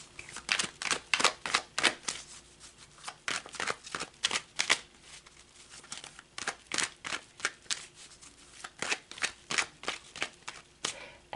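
A deck of tarot cards is shuffled close up: rapid bursts of crisp riffling flutters and slaps repeat in an irregular rhythm, fairly quiet, with no talk.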